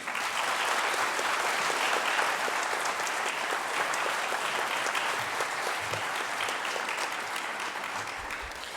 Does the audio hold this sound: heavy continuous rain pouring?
no